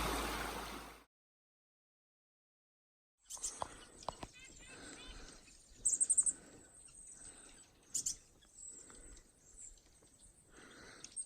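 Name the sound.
birds chirping in forest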